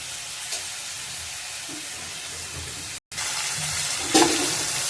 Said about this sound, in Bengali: তেলটা গরম হয়ে গেছে, চিংড়ি মাছটা দিয়ে দেব।